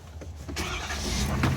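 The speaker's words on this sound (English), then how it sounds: "When I start this truck" A 2023-or-newer Ford Super Duty pickup truck engine cranks and catches, then settles into a steady close rumble.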